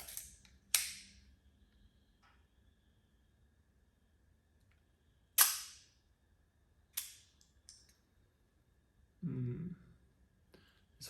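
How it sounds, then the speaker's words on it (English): A film camera with a sticky shutter fires several sharp, separate clicks with long quiet gaps between them, close by, followed by a brief low rustle. "This one seems to have a sticky shutter."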